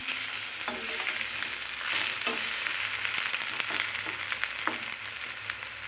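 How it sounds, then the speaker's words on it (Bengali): Oil sizzles and crackles steadily as eggplant slices fry in a pan, with occasional soft scraping and pops as they are turned. "বেগুনগুলো আমি উল্টে পাল্টে ভেজে নেব"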